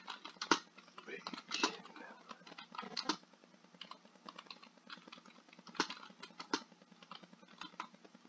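Keys clatter on a computer keyboard in quick, irregular bursts of clicks. The sound is faint and close, with occasional louder taps, and soft talking runs underneath.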